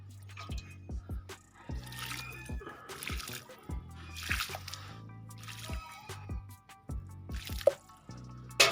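Water dripping and splashing from a watering can onto garden plants such as a guava tree, a steady run of bright liquid drips and small splashes, close and fairly quiet.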